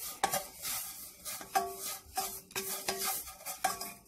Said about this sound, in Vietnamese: Tắt lửa nhưng mà mình vẫn để trong nồi mình chà, mình sơ qua sơ lại mình chà.